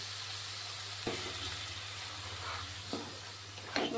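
Tomato puree goes into hot oil with frying spices, salt and Kashmiri chilli powder for a tangra fish curry, giving a soft steady sizzle with a low hum and a few light stirring knocks and splashes, close and quiet.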